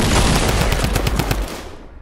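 Loud, rapid gunfire from a squad match in a PS4 shooter game, with dense bursts of shots in close succession that cut off after about a second and a half.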